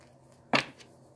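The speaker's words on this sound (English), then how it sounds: "Two more shuffles." Cards shuffled once during a tarot-style reading, a single quick riffle lasting a fraction of a second, close and crisp against a quiet background.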